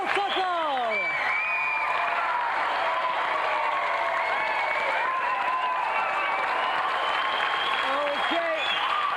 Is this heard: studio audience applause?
yes